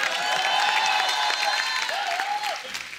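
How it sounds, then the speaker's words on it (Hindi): Studio audience on The Kapil Sharma Show bursts into loud applause and some cheering, a dense clapping wash with sustained tonal sounds and a whistle-like rising note riding over it before it tapers off. "कृष्णा के लिए जोरदार ताली हो जाए।"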